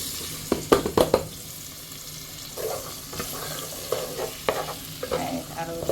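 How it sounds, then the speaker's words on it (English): Food sautés in an all-purpose pan while sweet corn rice cooks, giving a low steady sizzle under sharp clinks and scrapes of stirring that come in bursts, loud at the start and again near the end. "allow this to saute."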